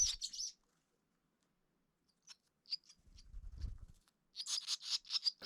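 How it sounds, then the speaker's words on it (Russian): Swallows chirp in short, bright bursts at the start and end, with sparse single tweets in between and a brief low rumble in the middle. "Время от времени родители продолжали выманивать птенцов из гнезда, предлагая корм и вылетая с щебетом из сарая."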